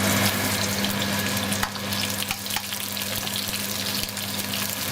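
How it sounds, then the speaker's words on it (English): Onions frying in vegetable oil in a wok, a steady broadband sizzle with a faint low hum running underneath and no talking. "to my wok, I'm going to add a little bit of vegetable oil. Like so. And next I'm going to add my onions."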